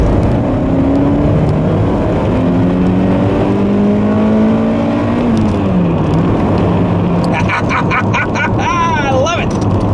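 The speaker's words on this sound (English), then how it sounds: "this car gets a lot more fun to drive when you can use it up in the higher RPM" A Toyota with a 2ZZ-GE engine driving and revving up into high RPM, the engine note climbing and shifting through gears inside the cabin, loud and continuous, with a wavering tone near the end.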